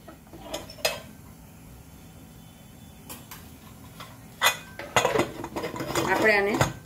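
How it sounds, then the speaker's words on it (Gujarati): A lid is set onto a pressure cooker holding chickpeas for chhole, giving a few sharp metallic clanks and clatters, louder and busier toward the end. "આપણે આને ઢક્કણ ઢાંકી અને સરસ રીતે સીટી કરી લેશું 6-7"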